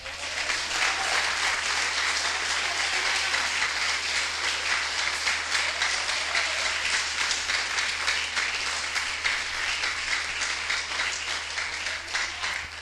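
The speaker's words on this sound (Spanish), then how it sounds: "Bríndele un aplauso al Señor." A church congregation keeps up loud, steady applause for nearly thirteen seconds, a dense wash of many hands clapping without pause and no talk over it.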